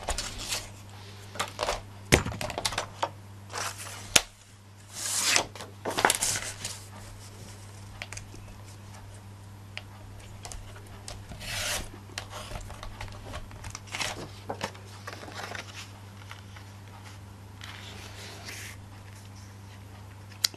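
Paper for a bellows card is cut by hand in a series of scattered crisp snips and rustling crinkles, close up, with quiet gaps between bursts over a low steady hum.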